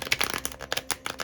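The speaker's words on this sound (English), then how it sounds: "we're gonna do a live shuffle of the Oshun Zen Tarot" A deck of Oshun Zen Tarot cards is shuffled close up, giving quick papery riffles and flicks in an uneven rhythm.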